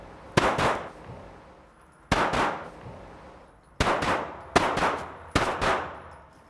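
Pistol shots from a Micro RONI fitted with a Vortex Venom sight, fired at steel targets on a range: sharp, loud reports in quick pairs with ringing clangs, separated by gaps of a second or more.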